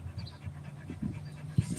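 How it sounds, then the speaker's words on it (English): A dog pants steadily in quick, soft rhythmic breaths close by, with a faint whimpering catch near the end and no speech. "Can you see the doggy?"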